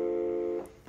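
A single sustained piano note rings steadily, then fades away in under a second, heard alone in a quiet room.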